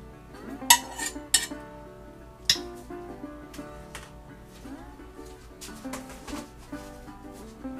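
A utensil clinks and scrapes against a pot as roux is mixed into turtle soup, with a few sharp knocks early and softer stirring scrapes after.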